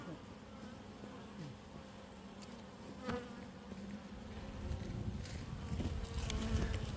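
Honeybees buzzing during a varroa powdered sugar test, a dense, continuous close hum of many insects, with faint tapping and rustling as the jar is shaken, growing slightly louder toward the end.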